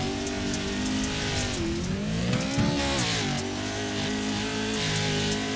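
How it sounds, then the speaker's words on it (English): A Pro 4 short-course race car in the iRacing video game, racing at Bark River, holds a loud continuous engine roar that dips and rises in pitch as the throttle comes off and back on over a jump, close and alone without talk. "Listen in to the throttle over the jump."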